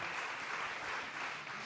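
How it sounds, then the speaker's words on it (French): A crowd applauds at a danced street-dance lecture show, a continuous close wash of many hands clapping at a steady level for a short burst, with no talk. "vous n'êtes pas avare en applaudissements"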